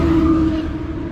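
A loud truck drives past on a road beside an Everglades walking trail, a broad steady engine rumble with a sustained tonal whine that holds briefly, then eases off as the vehicle moves away.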